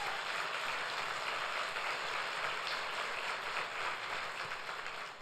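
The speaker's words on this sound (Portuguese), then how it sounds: "Dê um aplauso a Jesus." A church congregation at a Sunday service claps together, a broad, steady patter of many hands heard from a moderate distance and holding evenly for several seconds.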